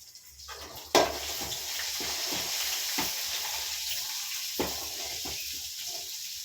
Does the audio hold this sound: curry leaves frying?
yes